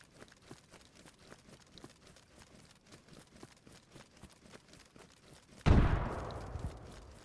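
AI-controlled gunfire in the video game DayZ: a steady patter of faint shots and clicks runs throughout, then a single loud, close blast with a long decaying tail near the end.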